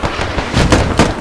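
Several sharp, loud blasts of grenade explosions in the military shooter Squad, booming close by in quick succession during close-quarters combat.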